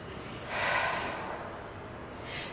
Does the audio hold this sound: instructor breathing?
yes